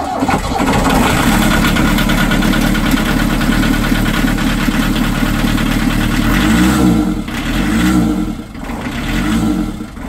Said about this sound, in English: conducting an engine start